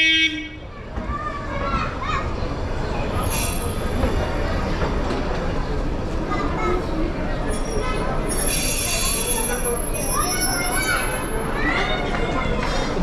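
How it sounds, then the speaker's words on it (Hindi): A train pulling into a station platform on the Ooty to Coonoor line, with a steady rumble of wheels and rail noise, squeals and a short toot, under a busy crowd of voices and people talking nearby. "दोस्तों हमारी ट्रेन आ चुकी है।"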